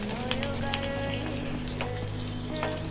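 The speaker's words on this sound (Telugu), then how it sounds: "ఎండుమిర్చి, పచ్చిశనగపప్పు, చాయ్ మినపప్పు, ఆవాలు, జీలకర్ర ఇవన్నీ కూడా లో ఫ్లేమ్లో దోరగా వేయించి" Dry red chilies, chana dal, urad dal, mustard seeds and cumin fry in oil over a low flame for an ivy gourd pickle, a dense steady sizzle with quick popping crackles and a faint hum beneath.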